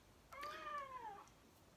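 A cat gives a single drawn-out meow that rises and then falls, clear but fairly faint in a quiet room, with no talking.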